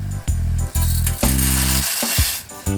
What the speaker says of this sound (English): Start with a cup of macaroni into boiling water.